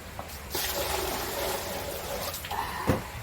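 Clothes rinsed by hand at home, lifted out of one tub of water and swished into another: steady sloshing and splashing water throughout, with a few sharper splashes near the end, no talk.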